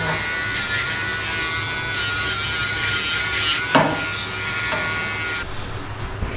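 A Dremel rotary tool grinds a Shih Tzu's back nails at a grooming session, giving a close, continuous high buzz that shifts slightly as it touches each nail, with a brief knock partway through.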